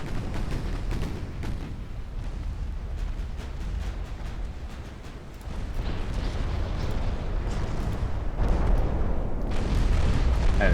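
Artillery bombardment in a Korean War strategy game, with dense, continuous rumbling booms and bursts piling up for the whole stretch and growing heavier toward the end, with no talking over it.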